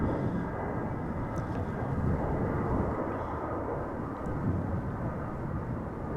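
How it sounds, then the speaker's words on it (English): An Icarus Air airliner taxis at Amsterdam Schiphol Airport, giving off a constant low engine rumble and hiss at a moderate distance, steady throughout with no voices. "It is now taxiing north on the left side of 36 Center."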